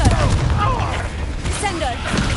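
Confringo blasting spell going off in Hogwarts Legacy, a loud booming burst followed by a rumbling, crackling tail that stays dense and close throughout, with battle noise and shouted spell calls around it.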